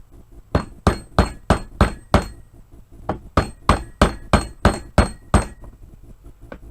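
Repeated hammer blows driving a part into a hammer head while modifying an SKS rifle, about a dozen sharp, evenly spaced strikes in two bursts with a short pause between, close and loud with no talking.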